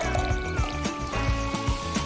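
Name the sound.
water running from a toy spigot into a bowl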